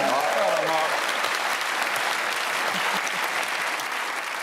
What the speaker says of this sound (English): I think we should give a round of applause.